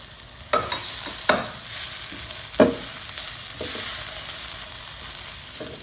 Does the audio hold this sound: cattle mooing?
no